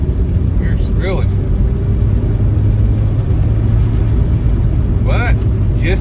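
A car treated with Sea Foam is driven at full throttle on a road test, a loud, steady engine roar and rumble filling the cabin while a voice briefly comes through in a couple of short bursts.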